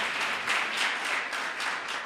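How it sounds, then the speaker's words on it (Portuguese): A church congregation claps together during a sermon, a short burst of steady, fairly rhythmic applause heard from a moderate distance with no talking over it. "Você pode aplaudir o Senhor?"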